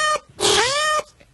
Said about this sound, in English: They are made aware of running over their time by the famous cat meow.